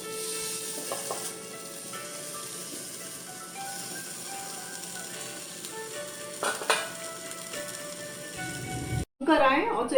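Marinated chicken sizzles and fries steadily in a pressure cooker, with occasional clinks of a utensil against the pot and a sharp clatter near the end, while a person talks over the frying.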